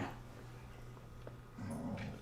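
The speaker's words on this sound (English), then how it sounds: "My dog's making all kinds of weird noises." A pet dog makes odd growling and whimpering noises, low and somewhat muffled, running steadily for a couple of seconds and swelling louder near the end.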